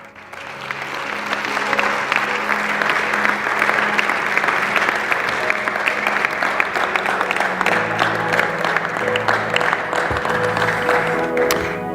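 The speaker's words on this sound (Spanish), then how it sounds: "De un aplauso de victoria." A church congregation applauds in celebration after a sermon, dense sustained clapping that swells quickly and holds steady for the whole stretch, with steady organ-like tones underneath.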